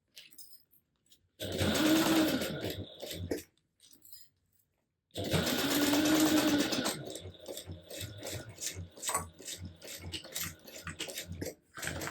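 A sewing machine top-stitches a beachcomber pouch in two steady whirring runs of about two seconds each, separated by a short pause, then gives way to lighter handling clatter and clicks close by.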